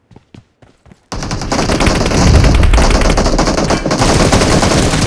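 Video game gunfire: a few sparse shots, then a sustained loud burst of rapid automatic fire close by, continuing without pause to the end.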